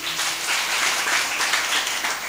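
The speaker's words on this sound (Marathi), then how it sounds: "त्या सगळ्यांनी एकदा जोरदार टाळी वाजवा" Audience at a Marathi devotional kirtan gathering clapping loudly together, a dense, steady wash of many hands sustained throughout without pause.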